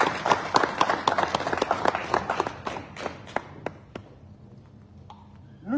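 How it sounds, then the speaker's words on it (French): A crowd at a political rally of the MRC party applauds in a burst of sharp, close hand claps that thin out to a few scattered claps and then fade to near quiet. "Applaudissez pour vous-même."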